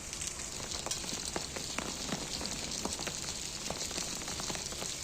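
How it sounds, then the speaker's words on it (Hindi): Heavy rain pours down steadily across hills in Uttarakhand, a dense, continuous hiss with scattered close drops spattering, loud and even throughout with no voices. "कई इलाकों में झमाझम बारिश शुरू हो गई है"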